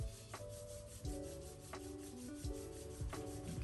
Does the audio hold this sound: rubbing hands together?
yes